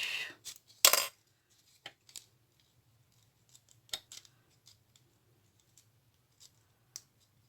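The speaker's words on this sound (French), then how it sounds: "je coupe l'excédent sans me couper le doigt, bien entendu" Scissors trim excess material on a miniature craft piece. A few sharp snips and clicks come close together at first, then sparse quiet clicks follow over near silence.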